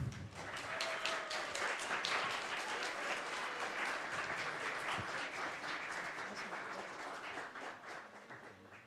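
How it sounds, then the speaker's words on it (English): An audience at a game jam presentation event applauds steadily, a dense wash of many hands clapping that stays fairly even throughout and tapers only slightly toward the end, somewhat distant and moderately quiet. "big round of applause."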